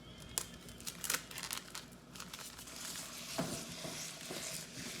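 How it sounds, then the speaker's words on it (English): Italian sausage sizzles in a hot pan while a utensil scrapes and breaks it apart, with steady close frying noise punctuated by irregular stirring scrapes and crinkly clatter. "we're actually going to start cooking the sausage first because it is going to take a little bit longer than the ground beef"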